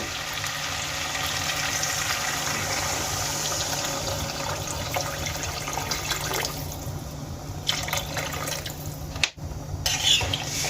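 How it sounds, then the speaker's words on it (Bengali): Water pours into a pan of fish curry with potatoes and green tomatoes, making a steady close rush and splash over the hot mixture. The sound shifts and thins partway through, with a brief clatter near the end. "এবার আমি এর মধ্যে দিয়ে দেবো পরিমাণ মতো জল"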